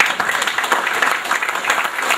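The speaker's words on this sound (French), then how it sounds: "Il faut l'applaudir aussi." A dense burst of audience applause at a French-speaking public event marking the ratification of a convention, welcoming an arriving guest; steady, close, lively clapping throughout with no speech.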